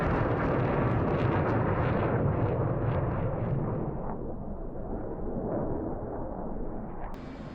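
A heavy laser-guided bomb from an F/A-18 Hornet detonates in a DCS World combat flight mission, a loud deep rumbling blast that fills the opening seconds and slowly fades into a lingering roar, with no talking.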